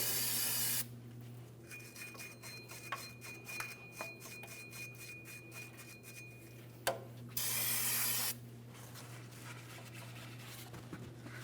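Cleaner sprayed onto the axle flange mounting area of a 2007-2014 GMC Sierra 2500 HD front hub, two long hissing bursts separated by a pause, with faint rubbing and scraping between them over a steady low shop hum.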